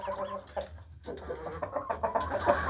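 Shamo chickens, a black hen with young female chicks, cluck and call softly at close range in a farmyard, with brief rustling between calls and no clear speech.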